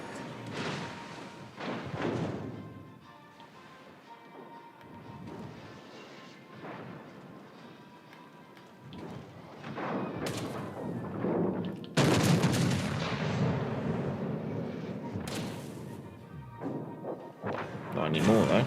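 Battleship guns fire in a naval warfare video game with Royal Navy ships, loud booming salvos with long rumbling tails over several seconds, with speech at points.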